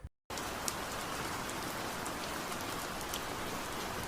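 Steady rain pouring down in winter, a dense, even hiss of drops falling on a surface, close and continuous with no voices.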